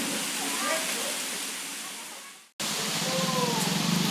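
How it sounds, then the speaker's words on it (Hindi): Heavy rain pours in a broad, steady hiss that cuts out abruptly midway, then resumes just as dense, with faint voices in the background. "इधर बारिश चालू हो गई है जोरों से।"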